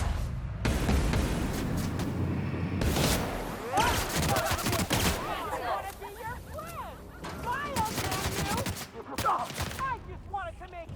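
Bursts of video game gunfire crackle in volleys across the scene, mixed with loud effects and frequent voices talking over the shots.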